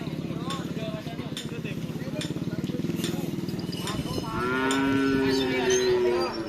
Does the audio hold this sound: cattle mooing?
yes